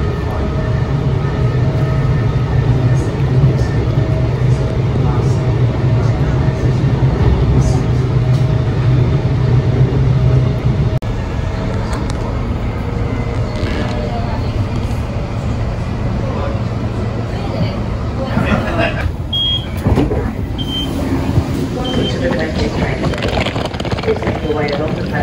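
Inside a clean Queensland Rail train riding through rainy Brisbane, a steady, loud low rumble of wheels and motors fills the whole stretch, with voices talking over it.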